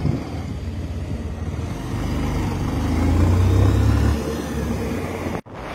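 A motorcycle engine pulls away slowly from a fuel station, a steady mid-pitched rumble that swells briefly as it gains speed, then settles before a short dropout near the end.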